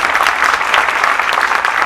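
Audience applause at a Hindi kavi sammelan poetry gathering, a dense, continuous wash of clapping from a large crowd, loud and steady throughout.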